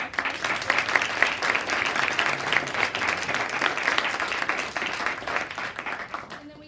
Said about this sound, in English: So if we could just give a round of applause to both of us.